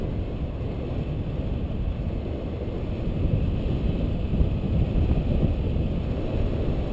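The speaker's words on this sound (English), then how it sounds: "we're starting to get that east wind blowing on down the pass and coming over this mountain" East wind blowing down a mountain pass, a loud rushing buffet of wind striking the microphone with no letup for seven seconds, swelling slightly midway, no voices.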